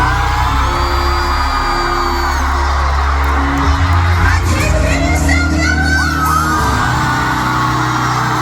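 A large crowd at a concert in São Paulo screams and cheers loudly and continuously, with shrill whoops and yells rising over the roar.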